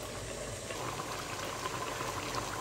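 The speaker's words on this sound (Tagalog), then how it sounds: "So, kumukulo na mga friend." Steady bubbling and churning of a pot of pork adobo with eggs at a rolling boil, continuous and close, with no talking.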